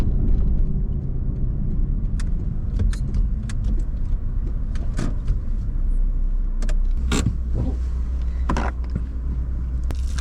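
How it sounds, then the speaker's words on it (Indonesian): A car engine idling at an Alfamart rest area on the Jakarta–Yogyakarta toll road, a steady low hum close by, with scattered clicks and jingling like keys over it. "Kita ademin mesin mobil dulu."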